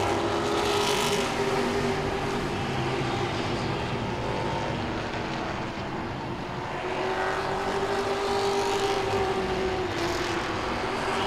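Pepsi Grand Stock race cars roar around Langley Speedway in a 40-lap night race, engines blending into a loud continuous drone that swells and fades slightly as the pack passes.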